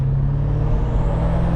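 The engine of a BMW F90 M5 Competition droning loudly and steadily from inside the car, a deep continuous rumble with only a slight shift in tone partway through as the gears step down.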